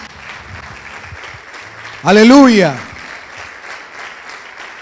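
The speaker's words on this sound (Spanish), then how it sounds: "Levante ese aplauso de victoria esta noche." Church congregation applause during an evening service, a broad wash of clapping beneath a loud sung or shouted exclamation that swells briefly in the middle, with speech before and after.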